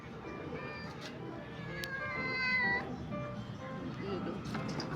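A cat meows a few times, close and fairly clear, with drawn-out, tonal cries in the middle, while people talk casually over it indoors.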